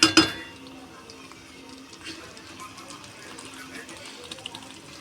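A metal lid clanks down onto a cooking pot of meat and spinach curry, a sharp close clink at the start followed by quieter kitchen sounds.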